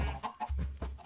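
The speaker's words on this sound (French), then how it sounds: "C'est même pas des araignées, c'est satané poules." Chickens in the Minecraft video game cluck in a few short, choppy bursts, close and fairly loud, with brief gaps between the clucks.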